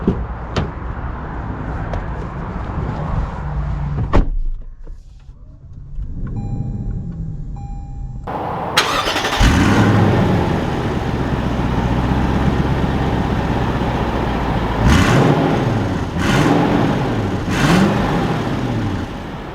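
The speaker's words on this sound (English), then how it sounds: "let's take this 570 out and see how it drives" A 2021 Lexus LX 570 SUV starts up and drives off: a brief door thunk and quiet interior hum, then the engine catches loudly near the nine-second mark and settles into a steady, close engine drone with a couple of revving swells.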